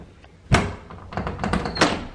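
A door fitted with an Arduino ESP8266-controlled lock is pulled against its locked latch, giving one sharp thunk and then a run of softer rattling knocks, close by and with no talk.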